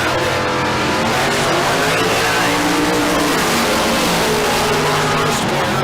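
Drag racing at Tucson Dragway, a Chevelle against a dragster in a bracket race, with loud continuous engine roar and revving close by over dense crowd and track noise, no clear talk.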